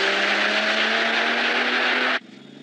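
A new Toyota Supra's straight-six engine drones at high, steady revs while driving, loud and sustained with a strong tonal whine, then cuts abruptly to a much quieter hum near the end.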